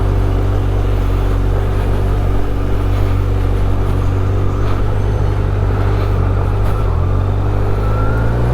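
A Kawasaki Z motorcycle rides along a road with a steady, droning engine and road rumble that holds constant from start to end, with no talking.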